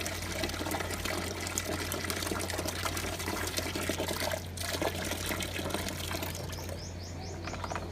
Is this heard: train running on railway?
no